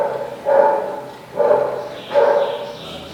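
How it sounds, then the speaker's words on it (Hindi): Dogs bark outside in a steady series of three evenly spaced, fairly loud barks, each with a brief howling tail. "इसीलिए कुत्ते बाहर भौंक रहे हैं।"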